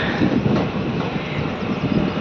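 A Nandyal-Kurnool diesel electric multiple unit pulls into Bethamcherla railway station with a loud, steady, broadband rumble that holds without a break.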